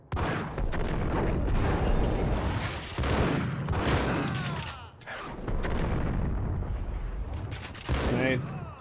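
Grenade explosions in Max Payne amid a dense firefight, heavy booms and rapid gunfire roaring almost continuously with brief lulls, loud and close, with a voice talking over the fighting.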